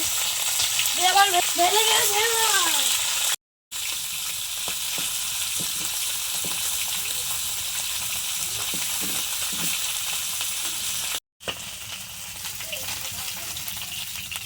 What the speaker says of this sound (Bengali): তাওয়া গরম হয়ে গেছে, সরষার তেল দেবো মাছ ভাজার জন্য